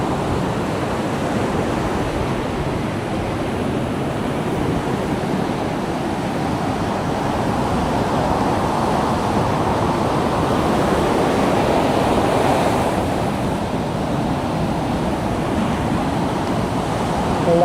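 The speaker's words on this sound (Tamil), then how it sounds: "இந்த பாருங்க கடல் அப்படி பார்த்துக்கலாம்" Stormy sea during a cyclone, waves crashing continuously on the shore with a loud, dense roar and wind rushing across the microphone, no voices.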